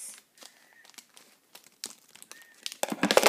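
Plastic blind basket packaging for a collectible toy crinkles and rustles in short bursts as it is cut open, quiet at first and then louder crackling near the end.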